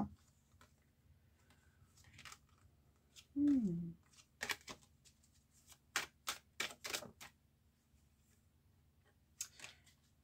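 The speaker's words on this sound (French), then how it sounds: "on va mélanger encore un petit peu. On va faire une coupe." Tarot cards are shuffled and cut in a quiet room, giving a run of crisp snapping riffles and taps. A short voiced sound comes partway through, and the rest is mostly faint.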